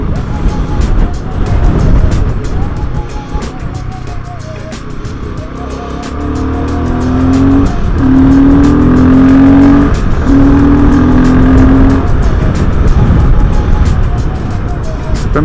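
Motorcycle engine running on a Himalayan road, a steady loud drone with rising revving tones through the middle, heard close and continuous throughout.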